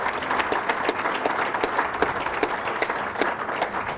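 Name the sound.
audience round of applause at a lunch event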